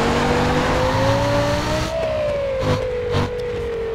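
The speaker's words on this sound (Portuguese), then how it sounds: "Olha o ronco do motor do carro!" A car engine roars in Need for Speed: Most Wanted, a loud continuous drone that climbs in pitch, dips with a gear change, then settles, with a couple of short bursts over the steady tone.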